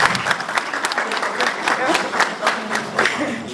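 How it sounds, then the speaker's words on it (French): Audience applause at a French-language interview, a steady burst of many hands clapping close and loud for several seconds, with voices underneath. "Ça s'applaudit, non?"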